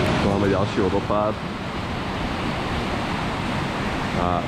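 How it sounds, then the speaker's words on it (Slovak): A waterfall in Lauterbrunnen, Switzerland, gives a constant broad rushing roar, with a person speaking briefly over it at the start and end. "Máme ďalší vodopád"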